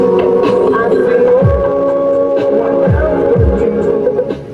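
A Konzert AV-502 amplifier plays music loud and clear through a speaker, with steady sustained tones and a few deep thumping drops, close and dense throughout.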